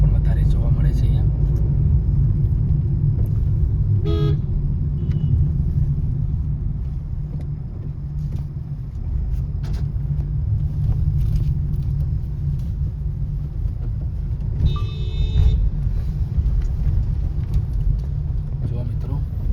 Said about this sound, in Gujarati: ટ્રાવેલ્સ કાર પણ, ટુરિસ્ટ કાર, પ્રાઇવેટ કારો પણ વધારે જોવા મળે છે અહીંયા